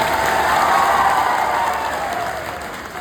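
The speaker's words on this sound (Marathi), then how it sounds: "एकदा जोरदार टाळ्या झाल्या पाहिजे वामनराव चटक साहेबांसाठी." Loud, dense applause from a large crowd at a speech event in honour of Wamanrao Chatak, a sustained roar of clapping that swells early and then gradually fades.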